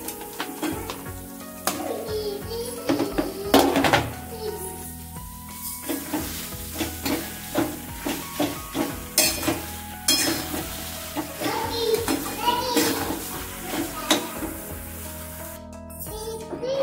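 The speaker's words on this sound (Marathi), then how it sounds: "गूळ ऍड केल्यानंतर कंटिन्युअसली असं हलवत राहायचंय" A spoon stirs raw mango and jaggery in a pan over low heat, with repeated scraping strokes and a soft sizzle in a steady rhythm, close and fairly loud.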